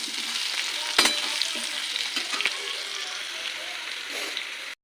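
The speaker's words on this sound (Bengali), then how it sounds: "এই যে আলুটা ভাজ ভেজে নিচ্ছি আলুটা ভেজে নিচ্ছি" Potatoes frying in a pan of hot oil, a steady close sizzle with a few sharp crackles and clinks from stirring throughout.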